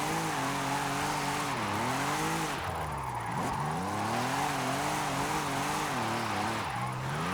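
Audi RS5 converted to rear-wheel drive, drifting in Forza Horizon: a loud, sustained engine roar rising and falling with gear and throttle changes, tire squeal layered over it, continuous throughout.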